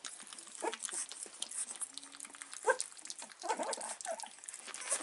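A Staffordshire puppy whimpers and gnaws, soft scattered whines and small biting sounds close by and faint, in short irregular bursts.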